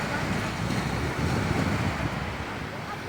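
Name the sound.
strong habagat wind at Boracay beach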